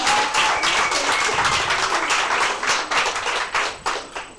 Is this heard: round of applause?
yes